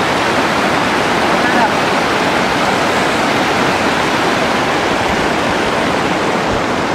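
Mountain stream in Sikkim rushing steadily and loudly, a dense unbroken wash of flowing water with no voices.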